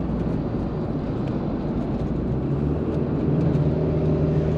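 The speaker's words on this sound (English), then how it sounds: "M25, bit of traffic." Steady, dense rumble of M25 motorway traffic, a continuous low roar with no clear breaks that swells slightly toward the end.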